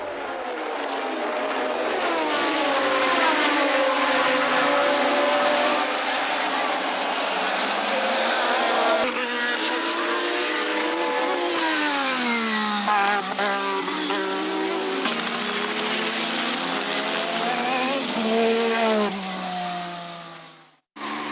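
Formula 1 race cars from the late 1980s and early 1990s scream loudly past during qualifying practice, their high engine whine rising and falling through gear changes as they approach and pass.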